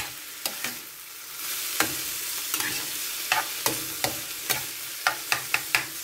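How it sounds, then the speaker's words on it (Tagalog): Eggplant omelette ingredients sautéed in a pan, with a steady low sizzle and a run of sharp spatula scrapes and taps against the pan, growing more frequent toward the end; no talking. "Para maigisa natin siya ng maayos."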